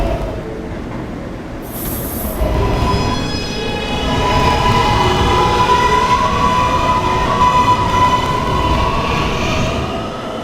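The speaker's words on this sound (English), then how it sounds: "This is a West Baton bound K train." A K subway train rides between stations, a loud steady rumble of wheels on rails, with a long rising squeal of wheels on track building through the second half.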